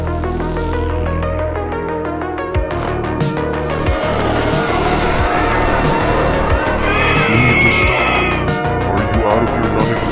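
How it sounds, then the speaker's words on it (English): A car crash scene from the mobile game Garten of Banban 7: a loud, steady engine roar with squealing tires and skidding, then rhythmic thumps and a rising metallic whine near the end. "Stay back, we're gonna crash."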